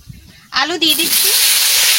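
Potatoes dropped into hot oil for a homemade chicken dish burst into a loud, steady hiss and sizzle that starts abruptly and keeps going, with a brief voice at the moment they hit the pan.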